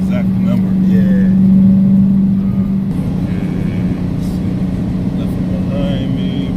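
Dodge Hellcat with roughly 700 lb-ft of torque pulling hard with wheels spinning, a loud steady engine drone heard from inside the car with people talking over it.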